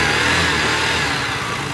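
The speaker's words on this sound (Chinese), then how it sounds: "加油门试。" A scooter engine in a workshop, its transmission and belt pulley recently repaired, runs steadily as the throttle is opened, a close, loud continuous drone without pauses.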